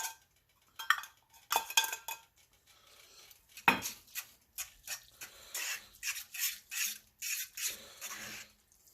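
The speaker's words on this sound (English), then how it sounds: "Let's stir to get that melted." Cheese and chopped green chilies stirred to melt in a cast iron pan: a spoon scrapes and clinks against the iron in quick, irregular strokes, close and fairly quiet.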